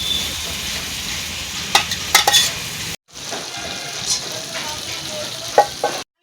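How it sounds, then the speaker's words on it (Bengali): Potatoes frying in spice masala in a wok, a close, loud sizzle with bursts of spatter and metal utensil scrapes and clinks against the pan, briefly cut off midway, with no talking. "এবার মশলার মধ্যে আলুটা ছেড়ে দেবো।"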